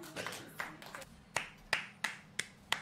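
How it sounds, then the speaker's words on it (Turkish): Several people clapping unevenly, with scattered single claps building to sharper, spaced hand claps about every third of a second, close and fairly loud with no talking. "Siz alkışlıyorsunuz, sesleri duyar gibiyim."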